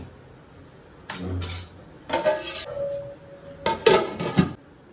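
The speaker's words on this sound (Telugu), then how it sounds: "కలిపేసుకొని మూత పెట్టేసుకుందాం." Rice for chicken biryani is stirred in a metal pot, then a lid goes on. Several separate bursts of scraping and clanking are heard against quiet gaps, ending in a couple of sharp metallic clinks.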